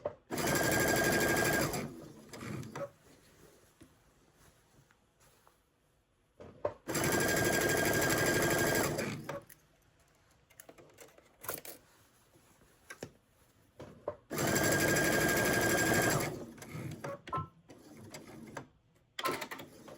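A sewing machine stitches the cuff of an upcycled sweater sleeve in three loud, steady runs of a few seconds each, separated by quieter gaps of handling and brief talk.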